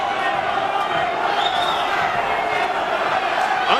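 A boxing crowd roars steadily at Andrew Golota vs Orlin Norris in June 2000, a dense, loud wash of cheering that fills the arena near the end of the last round.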